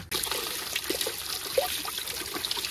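Tap water runs and trickles while a fresh lemon is rinsed under it, a soft continuous splash with small irregular drips, fairly close and faint.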